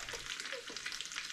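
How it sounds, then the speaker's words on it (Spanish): Chicken cooks over low heat in a pan, giving a steady, soft sizzle of frying that runs without a break. No one speaks. "Y por acá tengo haciendo este pollo."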